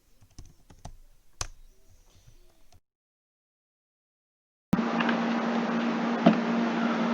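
A computer keyboard gives a few quick keystrokes and a tap of the Enter key, close and quiet, then falls silent before a steady electronic hum comes in.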